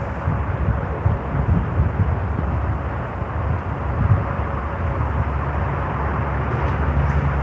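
A Boeing 787 Dreamliner airliner departs at night, heard as a steady, broad jet roar that holds at a fairly even level and swells slightly toward the end, with no voices over it.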